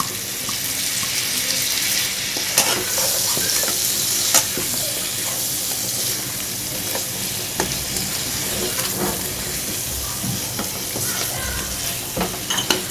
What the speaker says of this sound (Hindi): 2-3 मिनट भूनेंगे मिर्चों को, मसाले हमारे जो अच्छी तरह से भुने जाएं